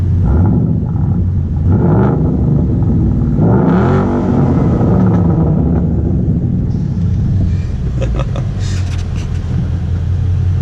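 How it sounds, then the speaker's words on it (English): A 2012 Ford Mustang Boss 302 V8 is revved hard several times from inside the car with the window down, loud throaty surges rising and falling over road rumble and wind noise, with no talking. "roll down the window and kind of point you guys out here and just rev the absolute shit out of it"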